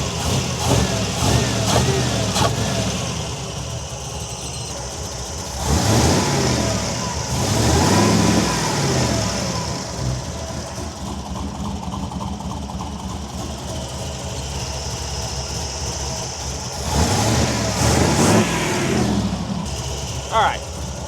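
A carbureted LS engine in a Dakota truck runs nearby with a steady idle, broken by several revving swells of rising engine roar, while someone talks over it at times.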